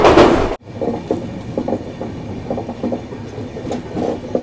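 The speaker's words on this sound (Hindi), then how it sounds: "फिलहाल अपनी ट्रेन एक छोटा सा स्टेशन धमारा घाट आकर रुकी है।" The Jansewa Express passenger train at the small Dhamara Ghat station: a loud rushing noise cuts off abruptly after half a second, leaving a low rumble with soft, irregular knocks and clunks.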